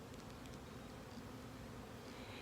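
Honey bees buzzing densely around an open hive during an inspection, a faint, continuous swarm drone with no talk over it.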